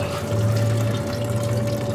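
Coolant gushes from a loosened radiator hose on a 1997 Toyota Corolla, a steady, close rushing pour of liquid with no talk over it.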